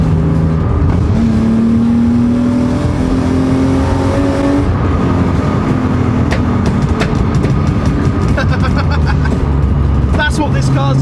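A BMW E36 with a 2.5 litre straight-six engine, drift-modified, accelerates hard from inside the car, its rising engine note climbing steadily and loud throughout, with road noise and a few clicks late on.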